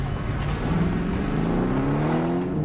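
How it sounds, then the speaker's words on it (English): A Grand Coupe supercar accelerates hard down a road toward 60 mph on a brake-testing run, its engine note climbing steadily and loudly in rising harmonic sweeps with no speech. "Richard Hammond will drive down this road at 60 miles an hour"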